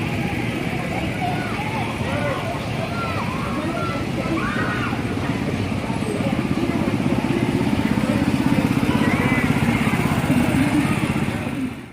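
Small go-kart engines buzz and drone as kids drive laps around a NASCAR speed park track, a continuous mid-distance motor whine with rising and falling pitch as karts pass, under a busy outdoor background.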